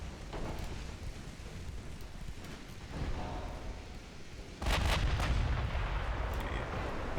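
Naval guns booming in a 1930s naval warfare video game, a steady rumble of distant fire building to a louder, heavier salvo near the end, with no talk.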